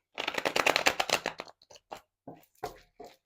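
Tarot cards are shuffled in a fast, close riffle of crisp slaps for about a second and a half, then drawn and laid down in a few separate soft snaps and slides.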